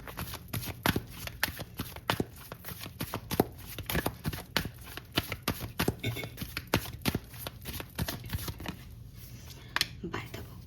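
A card is drawn from a Wisdom Oracle tarot deck, with repeated crisp card shuffles and snaps close by. Soft whispered speech runs quietly underneath.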